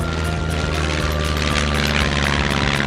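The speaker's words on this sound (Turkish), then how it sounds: "Deniz uçağı hızlanıyor ve havalanıyor." A cartoon seaplane engine drones loudly and continuously as the plane speeds up to take off, a dense steady propeller roar with no talking.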